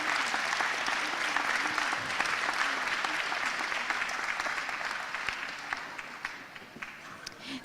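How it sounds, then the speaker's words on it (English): A large audience claps steadily and enthusiastically at an induction ceremony, a dense wash of applause that slowly fades a little toward the end. "Please stand and give them a round of applause."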